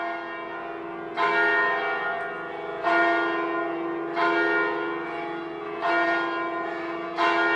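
Church bell strikes ring out one after another at a slow, steady pace of about one every one and a half seconds, each with a long humming decay, loud and alone without voices.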